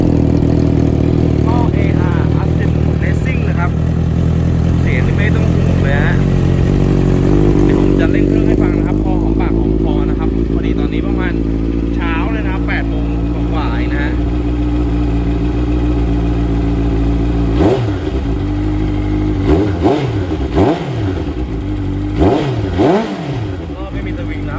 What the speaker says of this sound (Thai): มาดูฟังเสียงเครื่องกันเดี๋ยวครับ